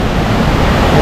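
Waterfall at Waterkey Falls in Bukidnon, a loud, steady broadband rush of falling water roaring continuously without pause.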